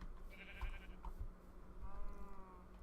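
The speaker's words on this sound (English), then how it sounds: "There's some more sheeps." Sheep bleat in a video game, several short, mid-level calls from a few animals spaced across a couple of seconds, with no talk over them.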